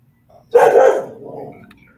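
A dog gives a single loud, close bark, followed by a short fading tail in an otherwise quiet setting.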